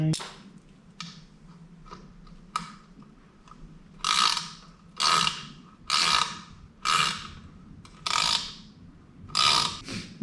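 Ratchet wrench tightening a nut while fitting a door seal on a 1985 Chevy, giving short clicking bursts at first, then about six louder, longer ratcheting runs in a steady rhythm, close up with no talking.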